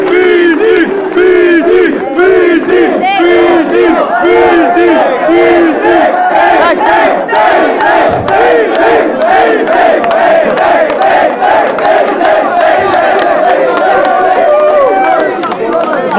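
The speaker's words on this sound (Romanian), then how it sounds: "aplauze pentru băieți încă o dată" A packed crowd at a freestyle battle rap event in Brasov roars, cheers and chants loudly and continuously for the rappers, many voices shouting at once with constant hubbub throughout.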